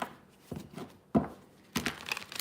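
Tarot cards being shuffled, three or four separate riffling bursts of papery crackle spaced about half a second apart, close and fairly quiet, with no talk.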